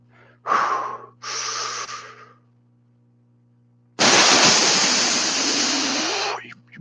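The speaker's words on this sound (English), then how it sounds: "You're breathing out." Close, forceful breaths: two short puffs of air in quick succession, a pause, then one long, loud exhale lasting over two seconds, alone with a faint steady hum underneath.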